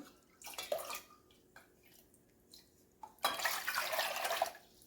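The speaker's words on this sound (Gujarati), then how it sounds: "જે વાડકીના માપથી સિંગદાણા લીધા છે એ જ વાડકીના માપથી આપણે 2 વાડકી પાણી લઈ લઈએ" Water is poured from a small bowl into a bowl of washed peanuts, with a couple of brief splashes early on and then a louder, steadier pour lasting a second or two near the end, close by with no talk.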